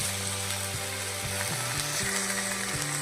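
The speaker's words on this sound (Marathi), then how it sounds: "मासे टाकून घेऊ शिजायला मासे टाकून झाले आहेत सगळे" Mala fish cooking in a masala-coated pan give a dense, continuous sizzle, close and steady, alongside a low humming tone with stepping pitch changes and no voices.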